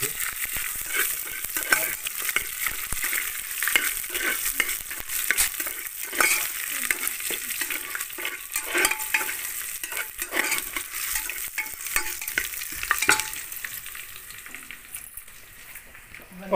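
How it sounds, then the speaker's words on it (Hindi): Onions and spices crackle in a tadka for urad and rajma khichdi cooked on a chulha, a dense continuous sizzle with stirring scrapes and light metal clinks, a voice talking faintly in the background. "ये देखिए अब जो है ये तड़के में डाल दिया है सब कुछ, प्याज"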